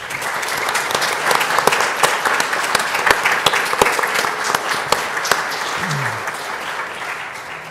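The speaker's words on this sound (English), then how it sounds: "Please give them a round of applause." An audience at a school board meeting gives a sustained round of applause: dense, even clapping from many hands in a large room, holding steady for several seconds before tapering slightly.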